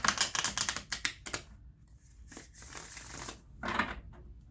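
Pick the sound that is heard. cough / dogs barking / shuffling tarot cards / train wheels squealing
shuffling tarot cards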